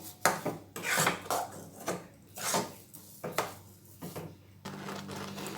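Papaya and sugar mixture being stirred in a pan, giving repeated scraping, knocking strokes of a spoon against the pan in an uneven rhythm, close and moderately loud, with no talking.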